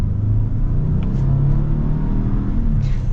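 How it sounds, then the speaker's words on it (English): A 2024 Ford Expedition King Ranch SUV with a 400-horsepower engine pulling away under acceleration at high altitude, with a steady, loud engine rumble and road noise from inside the cabin. "Get a little acceleration here."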